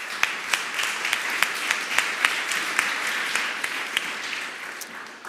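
Audience applause at the 15th-anniversary event of the Association Chimie du Végétal, held at the Hôtel de l'Industrie, with a steady wash of clapping and a few sharper claps standing out, fading slightly toward the end.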